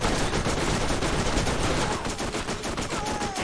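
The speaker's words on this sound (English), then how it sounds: "pull out the submachine gun," Continuous loud submachine gun fire in the shooter Borderlands, with dense, steady bursts of shots filling the whole stretch.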